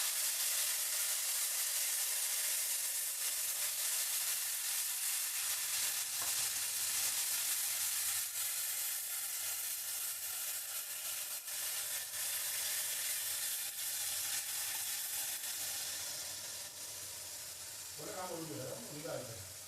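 Asafoetida, curry leaves and tomato sizzle in hot oil for a Saurashtra-style dum aloo curry, a steady bright crackling hiss throughout that eases slightly near the end, with a voice talking over it.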